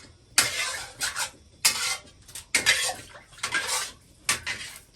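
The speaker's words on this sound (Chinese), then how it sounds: "你看我洗锅的功夫" A pot is scrubbed and rinsed with water, giving close, repeated bursts of clattering metal pots and pans and splashing in an irregular rhythm, with no talk.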